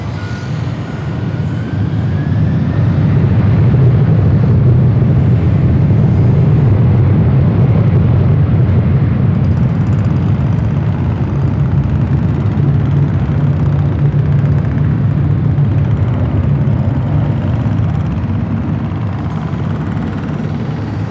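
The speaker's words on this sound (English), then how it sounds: "Delta 446, wind 2409, RNAV, now ready, runway 24 left, clear for takeoff." A Delta airliner takes off from runway 24 left at Los Angeles International Airport, its engines making a loud, steady, broadband roar that holds close and continuous throughout, with no voices over it.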